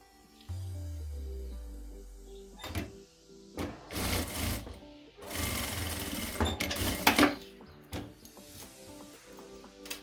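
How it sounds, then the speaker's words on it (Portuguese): A sewing machine stitches a seam on a fabric wallet in several short bursts, close by, separated by pauses filled with fabric handling and rustling. "Uno aqui, ó, e passo uma costura"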